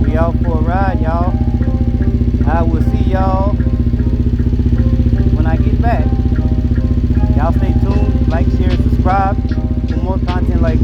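A 1998 Suzuki TL1000R motorcycle engine runs at a steady idle throughout, loud and close, with a person talking over the engine's constant drone.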